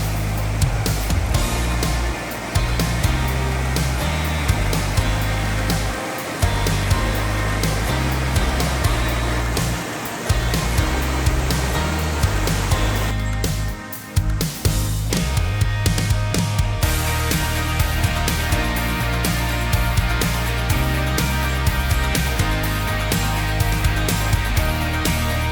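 Creek water rushes steadily at Garzas Creek in Garland Park, a loud continuous broadband wash with dense turbulent texture, close by and unbroken, with no talk over it.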